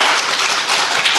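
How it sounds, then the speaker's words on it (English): An audience applauds in a university auditorium, a dense, even wash of clapping held briefly at full strength. "Please give applause to him because he's willing to come to here."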